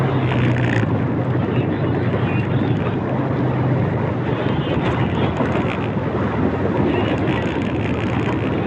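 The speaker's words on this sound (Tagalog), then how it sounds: "mahangin" Strong wind blowing across the sea aboard a fishing boat out for yellowfin and tuna, a steady loud roar buffeting the microphone with a low engine hum underneath, continuous throughout.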